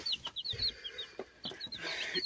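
Several young roosters make short, strained crowing attempts and clucks in a farmyard, scattered thin calls overlapping at close to middle distance with no talk.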